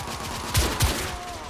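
Two quick, sharp gunshots in The Order 1886 game, close and punchy, over a low steady background of combat ambience.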